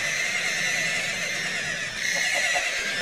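Minecraft horses neighing amid ongoing game sounds in a Zelda-themed UHC match, a faint whinny over a steady hiss of background noise with no talk.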